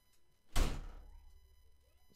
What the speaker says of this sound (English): I didn't shut my door.